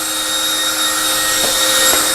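Electric motors of a VTOL model aircraft running on a KK2 flight controller whir steadily in a loud, high-pitched drone that rises slightly as throttle is added, close and continuous with no talking.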